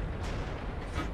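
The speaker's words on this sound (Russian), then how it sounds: "Кто-то по мне стреляет." Enemy tank shell hitting the player's tank in a tank combat video game, heavy booming impacts with a deep rumble, a sharp hit near the start and another near the end, close and loud.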